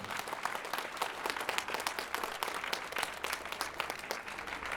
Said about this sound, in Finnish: annetaan järjestäjille kaikille kunnon aplodit tästä hommasta